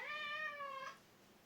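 A pet cat named Nana lets out a single drawn-out, tonal meow close by, fading into quiet room hush.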